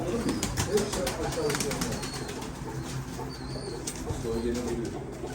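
Pigeons coo softly and steadily inside a high-quality pigeon loft in Istanbul, with occasional wing flaps, while someone talks over them throughout.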